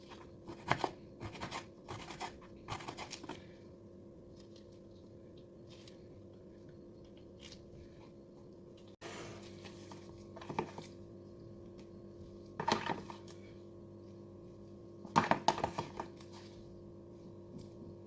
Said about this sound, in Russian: Маклюру нарезаем вот такими тоненькими долечками и выкладываем слоем.